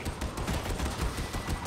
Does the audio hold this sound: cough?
no